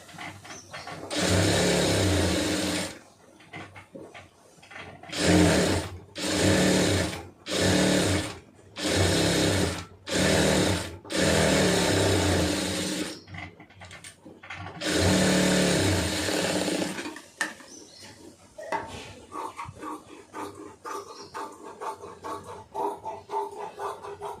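A sewing machine stitches around a large sleeve, running in several bursts of varying length with short pauses between them, then stopping as faint handling noise follows.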